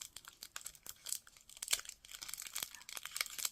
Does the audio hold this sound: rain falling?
no